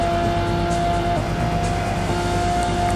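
A race car in Project Gotham Racing 2 on Xbox drones past with a steady engine tone, loud and sustained throughout with no voices.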